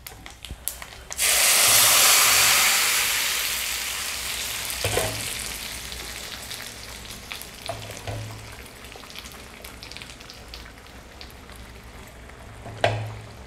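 Loud sizzling as dal tempering hits hot oil in a pan, a bright hissing burst that slowly settles, with a few stirring clinks and knocks.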